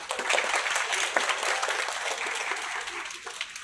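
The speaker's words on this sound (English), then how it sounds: "A big round of applause for them." An audience applauds at a national moot court competition, a dense, moderately loud round of clapping from a crowd in a hall that carries on steadily throughout.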